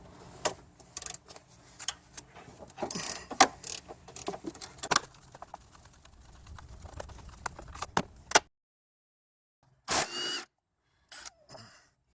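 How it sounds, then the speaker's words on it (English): Ratchet wrench working 13mm strut bolts on a Nissan Altima's front suspension: a run of close, dense mechanical clicks and clanks for about eight seconds, then silence broken by a few short bursts of ratcheting. "I can't get my impact tool on this one, so I'll just use my ratchet tool"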